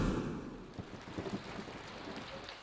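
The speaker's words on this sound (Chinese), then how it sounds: "你知道外边雨下那么大" Heavy rain pours down steadily while low thunder rumbles through it, a dense, loud downpour with no voices.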